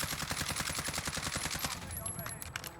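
An automatic weapon in a video game empties a full magazine in rapid, evenly spaced shots for about two seconds. The firing then stops and quieter game noise trails off.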